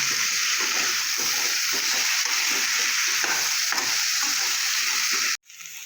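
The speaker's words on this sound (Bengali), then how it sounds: "দিয়ে ভালো করে ভেজে নেব" Steady, close sizzling of kohlrabi, potato and radish frying with turmeric in a pan, with repeated scraping and stirring strokes throughout, cutting off abruptly near the end.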